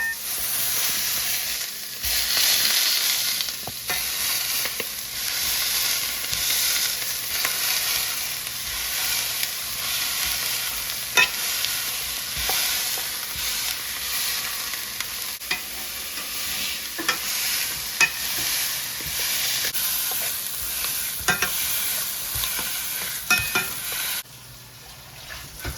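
Thin smash burger patties fry on a hot griddle in a kitchen, giving a steady, bright sizzle with occasional soft clicks and scrapes throughout, fairly close and even in level.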